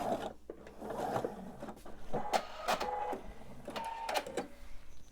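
A sewing machine pieces quilt blocks for a lazy angle quilt, producing short, close, irregular bursts of mechanical whirring and clicking separated by quiet handling sounds.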